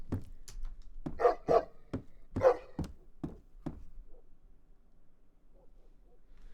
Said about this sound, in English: So you can hear that dog ever so slightly coming through.